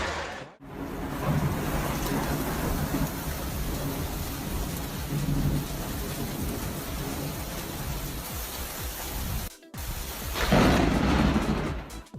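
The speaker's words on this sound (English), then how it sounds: "Sleeping through a thunderstorm is tough. Loud booms keep pulling you back from dreamland." A thunderstorm with heavy, continuous rain hisses loudly and closely, while deep rumbling booms roll underneath. The sound cuts out briefly twice.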